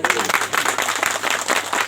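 A crowd claps steadily in a dense, continuous patter that stays loud for the whole moment, with some voices faintly mixed in.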